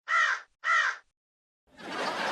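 A crow caws twice in clear, loud, evenly spaced calls, then a burst of broadband rustling noise follows after a short silence.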